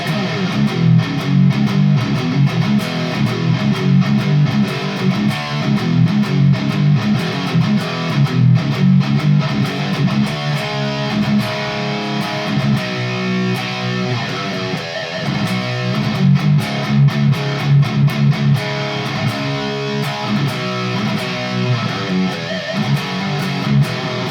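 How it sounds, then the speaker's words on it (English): An electric guitar plays heavy chugging riffs through an Angry Riff Box V.3 high-gain overdrive pedal with its fat switch engaged, giving a loud, thick, continuous distorted tone with rhythmic palm-muted bursts. "Now we got the fat switch engaged. Let's see if we get some meatier tones."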